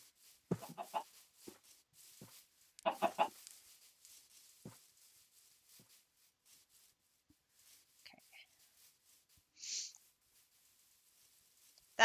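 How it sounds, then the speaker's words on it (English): Several chickens cluck in the video game Minecraft, with scattered short calls spread across a mostly quiet stretch and a brief higher squawk near the end. "Oh, look at all the chickens. So many chickens."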